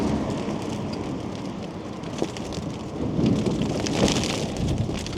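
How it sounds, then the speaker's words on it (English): Hail and heavy rain pelt a vehicle during a gusty storm, a dense continuous clatter of close, loud impacts that swells in intensity toward the end. "Yep, this is a hailstorm."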